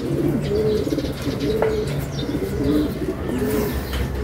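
Several pigeons coo in soft, repeated low calls close by, overlapping in a gentle rhythm over a steady background hum.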